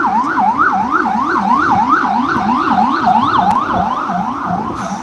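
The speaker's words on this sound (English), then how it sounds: "I was just waiting for that fire truck to go by" A fire truck siren wails loudly on a New York street, its pitch sweeping up and down in a fast, steady cycle as the truck passes nearby over traffic rumble.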